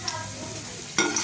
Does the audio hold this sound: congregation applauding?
no